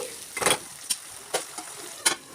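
Green chili and tomato paste sizzling in hot oil in a pan for a potato and green pea masala curry, with several short bursts of stirring and spattering over a quiet hiss.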